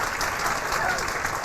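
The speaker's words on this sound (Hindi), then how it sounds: "एक बार जोरदार तालियां हो जाए इनके." Audience at a CA Foundation motivational talk bursts into loud, sustained applause, a dense wash of clapping filling the room throughout.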